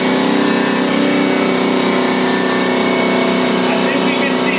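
A regular shop air compressor runs steadily and loudly throughout, a constant dense mechanical drone with no pauses, set in a machine shop beside a Tormach 1100MX.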